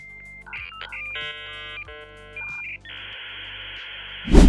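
Dial-up modem connecting, with dial tones and stepped handshake beeps giving way to a steady hissing carrier screech, then a sudden loud burst at the end.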